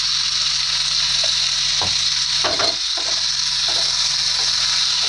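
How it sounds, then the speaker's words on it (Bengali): Fried potato and cauliflower being stirred into spice paste in a pan for a Bengali fish curry. A continuous sizzle runs throughout, with scattered clinks and scrapes from stirring close by. "এবারে আলু ফুলকপি ভাজাগুলো মশলার মধ্যে দিয়ে ভালো করে কষে নেব"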